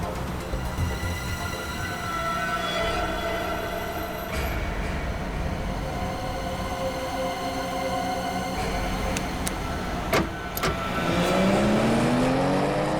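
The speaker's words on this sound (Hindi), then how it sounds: "स्लो चलाओ गाड़ी" A car is driven along a road, its engine and tyre rumble steady throughout, with rising revving or passing-vehicle tones near the end and no talk over it.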